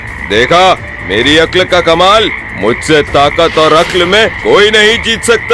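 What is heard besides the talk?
frogs croaking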